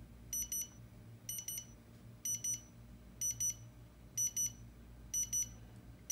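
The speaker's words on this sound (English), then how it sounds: "this is the beeping it makes when it's full." An HTRC C240 Duo LiPo battery charger signals full charge with electronic beeping in repeated triple chirps, evenly spaced about once a second, high-pitched and clear over a faint low hum.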